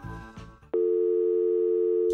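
A telephone busy tone, from a phone that is not working, rings out loud and steady with no talk, after a short burst of handset noise.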